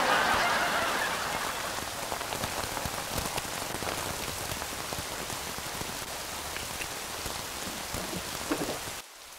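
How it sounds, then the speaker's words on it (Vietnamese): Heavy rain pours steadily onto surfaces outside a market, a dense, constant hiss with scattered splashes, loudest at the start and cutting off abruptly at the end; no one speaks. "ngoài chợ mưa lớn lắm hả con"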